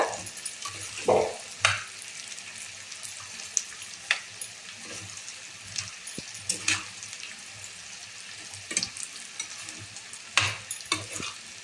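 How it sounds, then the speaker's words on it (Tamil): Mango ginger pickle is stirred in a pan, with scattered scraping and clinking strokes of a spoon over a faint sizzle, close and moderately quiet, with no talking. "இப்போ நல்லா கலக்கி வச்சுக்கோங்க"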